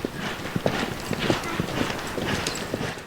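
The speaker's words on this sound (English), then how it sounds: "this beautiful buckskin I'm riding, Peyton." Hooves of a buckskin horse clip-clop steadily on a ranch trail ride, a close, regular rhythm of distinct hoofbeats over soft outdoor background noise.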